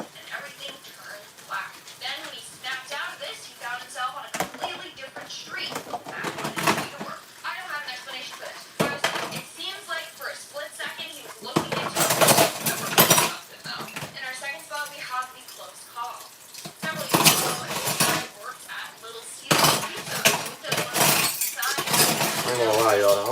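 Dishes, pots and silverware being washed by hand at home, with clinks, clatters and rattling utensils in irregular bursts, close by, alongside speech in the room.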